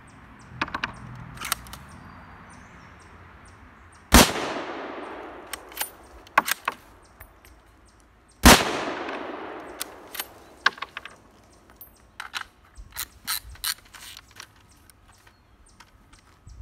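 Unsuppressed .308 rifle shots with 225 grain subsonic ammunition: two loud, sharp reports a few seconds apart, each with a ringing decay. Metallic clicks and clacks of the rifle's action fall in between.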